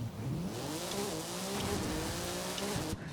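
A boosted launch in Forza Horizon 5, tuned for wheelies: a loud, close engine climbs steadily in pitch through about three seconds of continuous hard acceleration with some tire noise, then cuts off abruptly at the end.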